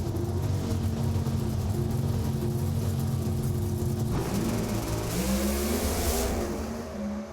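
An NHRA drag racing car at a national event launches with the tire lighting up, a loud, continuous engine roar that shifts in pitch as it pulls down the strip, alone without talk.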